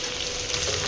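Vegetables with potato, beetroot, carrot and onion frying in a pan and being stirred, a brief, dense, loud sizzle with no voices.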